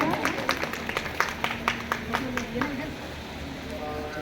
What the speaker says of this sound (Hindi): जोरदार तालियों से स्वागत करेंगे ताई का।